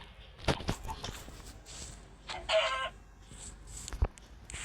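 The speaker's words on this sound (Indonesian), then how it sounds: "Ada ayam tuh." Chickens cluck and call quietly outdoors in a village setting, with a few short scratchy bursts and a soft thump amid low background noise.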